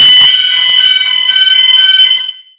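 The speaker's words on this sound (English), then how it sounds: "There seems a fire alarm going on." A fire alarm rings during a talk, a loud, steady, high-pitched electronic tone holding for about two and a half seconds before cutting off, with no voices over it.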